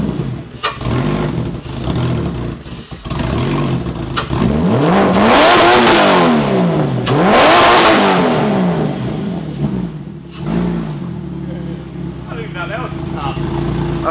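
A widebody BMW E36 engine revs hard and very loud nearby, climbing and falling through several sweeping high-rpm pulls, with people talking and shouting over it.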